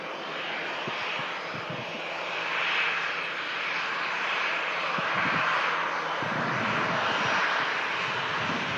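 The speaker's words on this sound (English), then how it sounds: "Ryanair 71 Julia Papa, touching down from Dublin" A Ryanair airliner arriving from Dublin touches down, its engines a sustained mid-distance roar that swells and holds, with light thumps and rumbles beneath.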